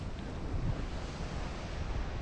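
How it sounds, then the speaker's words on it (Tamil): River water rushing and splashing over a rock near a fort in Kunnu on a ride to Ladakh, a steady broadband roar with wind buffeting the microphone throughout, no voices. "அந்த பாறையில் தண்ணி முழுகி முழுகி முழுகி முழுகி வருது"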